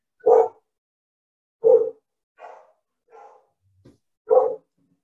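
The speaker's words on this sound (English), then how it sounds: "Dogs barking." Dogs bark loud and close: three sharp, heavy barks spaced a second or two apart, with softer, smaller yips and a brief whimper in the gaps between them.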